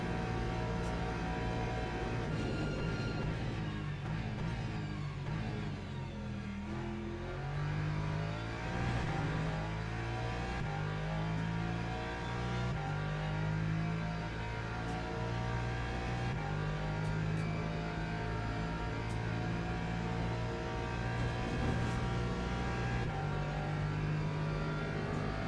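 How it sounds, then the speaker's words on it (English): Ferrari race car in a Le Mans racing video game, engine accelerating steadily with rising and shifting tones, a continuous loud mid-pitched drone alone with no talk. "it takes a longer time for the Ferrari to get up to that speed"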